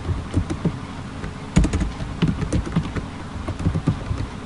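A computer keyboard clatters under quick, uneven bursts of typing. The keystrokes are close and crisp and come with brief pauses.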